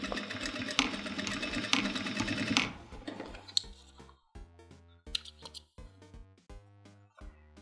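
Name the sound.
sewing machine stitching back and forth on jeans waistband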